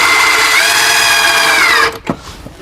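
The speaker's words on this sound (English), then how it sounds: "pre-drill that hole before I put the screws in there." A power drill pre-drills a screw hole in a cabinet built from scraps, giving a loud, close, high whine that holds steady for about two seconds and then cuts off sharply.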